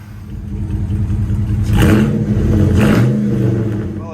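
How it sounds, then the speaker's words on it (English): A rebuilt 1986 Dodge Shelby Daytona engine running at a high idle, a steady mid-pitched whirring drone with a slight rise and a couple of brief surges, heard up close with no talking. "I don't know why the idle's so high. But it's running"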